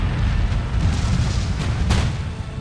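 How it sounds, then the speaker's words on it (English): Cannon fire from an Empire: Total War battle rumbles in a dense, continuous low roar, deep booms merging together at loud volume with a sharper crack near the end and no voices. "that artillery is driving me crazy"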